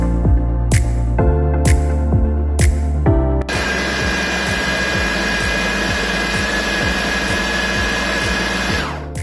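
Electric kitchen grinder grinding lentils together with beef for shami kababs, first in a few short pulsed bursts, then one long, loud, steady whirring run.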